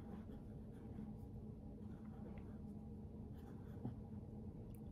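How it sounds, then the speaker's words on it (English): A pen or marker draws lines on paper for Diwali rangoli art, producing a quiet, continuous scratchy scraping up close with no voices. "you could draw lines"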